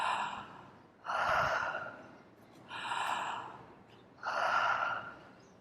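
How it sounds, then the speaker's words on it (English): Circular breathwork: four deep, airy breaths run together, inhales flowing straight into exhales with no pause, close and steady, with no talking. "we bring the inhales back to back with the exhales"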